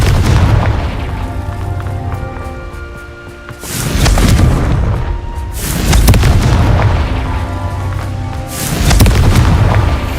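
In a Harry Potter video game, Confringo explosive spell blasts go off in three heavy booming waves, each a deep rolling rumble with crackling debris, loud and close, with no voices.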